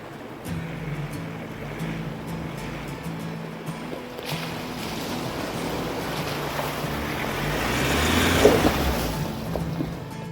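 A standard 4x4 driving along a flooded bush track after heavy rains, a steady broad rumble and wash of engine and water that swells near the end, with wind noise across the microphone.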